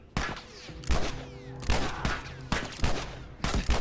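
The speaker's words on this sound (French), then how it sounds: "c'est qui ose me tirer dessus là avec son pistolet?" Pistol gunfire in The Last of Us Remastered, five or six sharp, loud shots spaced about every half to one second, each with a short ringing tail.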